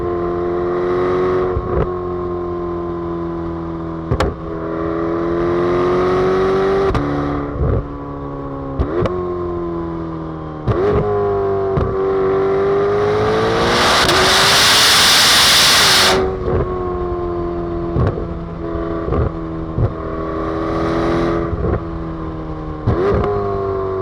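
Chevrolet Corvette C8 ZR1 cabin sound with a loud, steady engine drone through most of the run, gear shifts breaking it up, and a strong hissing rush of air in the middle.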